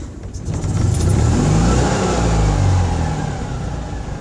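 Citroen 2CV engine fitted with a replacement coil starts up and revs steadily, a close, loud, slightly rough running note that holds for several seconds.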